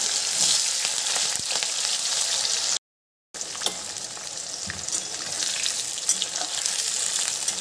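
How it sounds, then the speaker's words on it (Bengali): Onions frying in oil with bay leaves and a dried red chilli for Kashmiri chicken, giving a loud, steady sizzle with occasional crackles and a brief dropout partway through, no voices. "পেঁয়াজটাকে ভালো করে ভেজে নেব"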